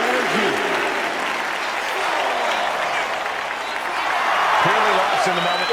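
Wrestling fans in WWE 2K25 cheer and applaud in a dense, continuous roar filling the arena, with a commentator's voice running over the top.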